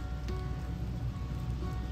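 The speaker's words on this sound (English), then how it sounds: "It's raining, and I kind of like it." Rain falls outdoors, a steady soft patter of drops on surfaces, constant and fairly close.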